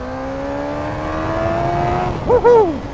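A Suzuki GSX-S 1000 motorcycle engine pulls steadily with a rising tonal whine as speed builds, then blips through quick revs near the end, loud and close.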